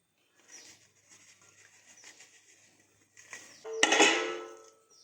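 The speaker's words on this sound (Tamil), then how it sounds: "இப்போது இது எல்லாத்தையும் நல்லா கலந்து விட்டுருங்க." Sugar and ghee being stirred into Ashoka halwa in a pan, heard as soft, steady scraping and patter that swells into a louder, rougher burst near the end, close by with no speech.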